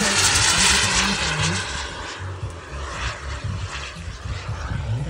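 Composite Viper Jet model aircraft's turbine engine running at an outdoor model airplane meet, a broad steady roar with a hissing rush that swells and shifts, heard nearby.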